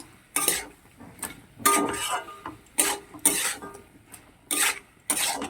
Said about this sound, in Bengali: এবার যে ভেজে রেখেছিলাম যে চিংড়িগুলো সেগুলোকে দিয়ে দিচ্ছি দিয়ে ভালো করে এর সঙ্গে নাড়বো